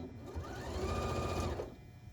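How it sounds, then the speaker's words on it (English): A sewing machine stitches a mitered quilt corner, a short, quiet, rapid run of mechanical whirring and needle clatter that starts and stops within about two seconds. "in the black dot, I start sewing"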